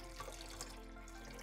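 Water runs and pours steadily while silver is rinsed of sugar and lye during refining, a continuous faint splashing flow with no talk.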